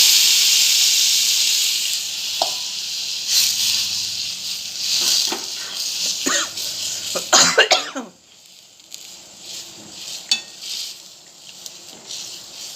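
Water poured into a hot pan of stuffed eggplant, giving a loud hiss and sputtering burst that fades to quieter bubbling and a few faint clinks.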